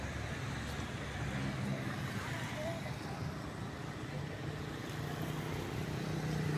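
Heavy road traffic crossing the bridge over the Pajeú river, a steady rumble of cars, buses and trucks under a voice.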